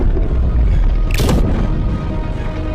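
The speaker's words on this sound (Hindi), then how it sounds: "सैनिकों ने तुरंत तोप के गोले ड्रैगन की तरफ दागने शुरू किए।" A single sharp cannon blast from a dubbed Hollywood dragon movie bursts out briefly over a dense, loud soundtrack background.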